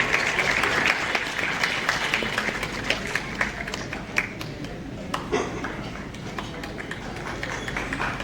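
Loud, dense applause from a crowd at a felicitation ceremony in a community hall, with sharp individual claps standing out over a continuous roar that carries on steadily for several seconds.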